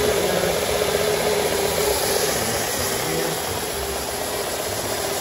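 A belt sander runs in a wood shop with a dust vacuum attached, a loud steady whirring drone that holds close and continuous with a slight dip toward the end.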